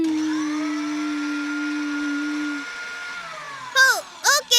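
A voice imitates a mixer grinder with a long steady droning hum, followed by a few short bursts of sound near the end.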